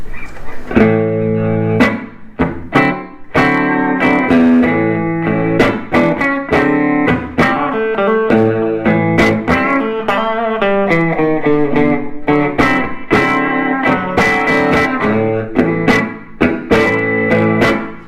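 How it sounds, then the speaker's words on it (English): Electric guitar chords and notes played through a warm, slightly overdriven 15-watt J-Dub's Eleanor tube amp with reverb, strummed loudly with a rhythmic, ringing tail. "This is a J-Dub's 15 watt Eleanor amp. It's just got reverb and it's tube driven."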